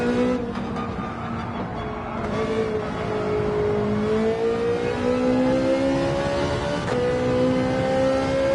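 A GR3 race car in Gran Turismo 7 revs hard at full throttle out of a corner, its engine note climbing steadily and loudly through the gears, with a brief dip and rise as it shifts.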